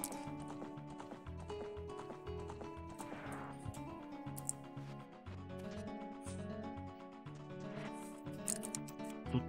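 Horse hooves clip-clop in the video game Ocarina of Time, a steady rhythmic trot of repeated taps over tonal game music.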